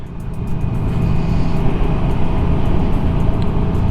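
A 2020 Honda Goldwing Tour DCT motorcycle on the move, with a loud, steady low engine and road rumble and wind noise that builds up and then holds constant, close to the rider.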